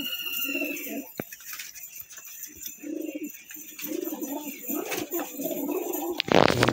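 A female Madrasi pigeon coos in repeated soft, throaty bursts at close range, with a sharp clatter near the end.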